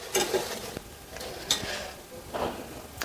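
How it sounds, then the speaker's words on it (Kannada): Chili powder goes into about three spoons of hot oil in a pan for paneer masala gravy, giving a soft, faint sizzle with scattered clinks and scraping stirs of a spoon against the pan. "ಈ ಎಣ್ಣೆಗೆ ಇವಾಗ ನಾನು ಒಂದು ಸ್ಪೂನಷ್ಟು ಖಾರ ಪುಡಿ ಹಾಕೋತಾ ಇದ್ದೀನಿ"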